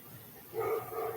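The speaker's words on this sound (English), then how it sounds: "You can hear someone barking." A dog barks somewhere off in the distance, a short muffled burst of yips heard once during a quiet at-home bodyweight workout, faint and with no talking over it.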